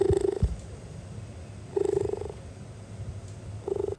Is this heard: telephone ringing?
no